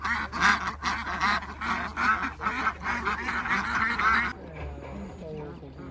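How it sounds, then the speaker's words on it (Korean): A crowd of hungry ducks or geese at a place in Vietnam clamours for food. The dense, loud quacking and honking goes on for about four seconds, then falls to a quieter background. "새들 밥 달라고 아주 난리네."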